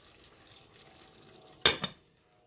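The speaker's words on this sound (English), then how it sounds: "Put the lid on." A lid set onto a cooking pot of stewing goat, one sharp metallic clank with a brief rattle settling after, near and fairly loud against a quiet kitchen background.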